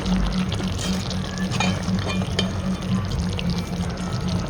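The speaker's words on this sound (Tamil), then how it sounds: "இப்போ தேங்காய் பால் சேர்த்துக்கலாம்" Coconut milk poured steadily into a pot of drumstick curry (murungakkai kootu), a continuous liquid rush over a low kitchen hum, close and fairly loud throughout.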